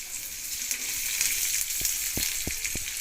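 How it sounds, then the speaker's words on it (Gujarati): Cooked rice stirred into frying vegetables in a tawa for Gujarati tawa pulao, with a steady close sizzle and several sharp scraping strokes of the spoon against the pan toward the end. "અને પછી ભાતને પણ હલાવી દઈશું."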